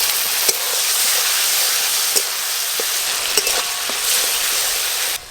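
Spices with chopped tomato, salt, turmeric and a little chili powder fry in a pan as a splash of water goes in, a loud continuous hiss and crackle with a few soft clinks over about five seconds.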